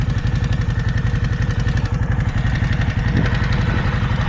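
Steady engine drone from a 2005 Kawasaki Vulcan 750 motorcycle on a test ride, a loud, even throbbing note with a constant rhythmic pulse close up and no voices.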